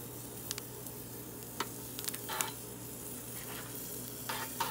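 Steak and eggplant sizzle on a Kamado Akorn Jr. grill, a steady close crackle with scattered pops and spits running evenly throughout, no voices.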